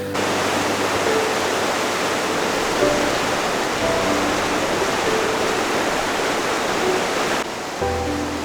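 Rapids of a brown, boggy river rushing toward Lake Inari in wintry Finnish Lapland, a steady, loud broadband roar of churning water from close by, continuous and without talk, briefly dipping near the end.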